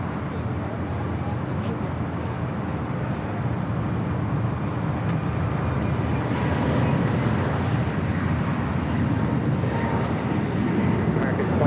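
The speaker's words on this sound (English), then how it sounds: "Heading up to Charlotte on A321 Neo." An American Airlines Airbus A321neo jet departs LAX bound for Charlotte, a steady, loud broadband engine roar that swells slightly as it continues, with faint voices in the background.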